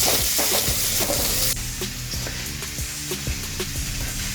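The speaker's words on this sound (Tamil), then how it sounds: "சிம்மில் வச்சு வெங்காயம் நல்லா பொன்னிறமாக வர வரைக்கும் வளர்க்கணும்" Steady frying sizzle of onions on low heat in a pan with scattered stirring clicks and scrapes of a utensil, close and continuous throughout.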